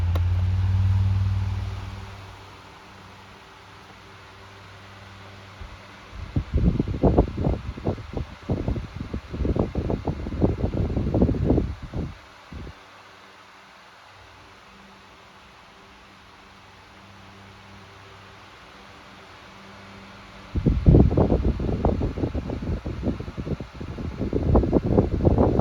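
A Rowenta Turbo Silence Extreme 12-inch oscillating fan runs on its turbo setting, giving a steady broadband whoosh with gusty flutter bursts that come and go as it sweeps.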